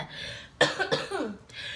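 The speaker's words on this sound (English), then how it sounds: "the longer I get on here and talk, the more coughing I do" One short, sharp cough rings out in a quiet indoor room, followed by a softer breathy trailing sound, with no speech.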